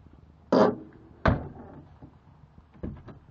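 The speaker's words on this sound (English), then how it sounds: "Oh, that door works nice." Car door on a 1961 Plymouth Valiant sitting in a junkyard swings open and shuts with a solid clunk, then clicks once more softly, a few close, distinct bangs with quiet gaps between.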